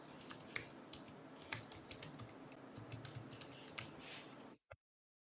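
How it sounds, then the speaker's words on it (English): Typing a command on a computer keyboard, a quick irregular run of crisp, close key clicks and taps that stops abruptly near the end, with one last isolated click. "I type the TIE run command with the watch argument."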